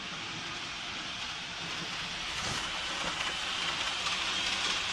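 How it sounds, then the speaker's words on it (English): An N scale model commuter train runs through a shared switch on a home layout, a soft continuous rolling rattle with faint clicking, quiet and steady with no talk. "Commuter train going through the switch, the common switch it shares with this other commuter train."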